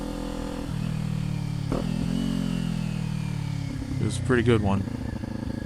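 A Kawasaki Ninja 400 motorcycle drones steadily while riding, its engine tone shifting and rising as it accelerates, with a rider speaking briefly over the engine.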